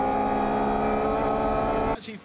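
A Mazda 323f race car with a 2.5 litre engine holds a loud, steady engine note close by, then cuts off abruptly near the end, leaving only faint sound.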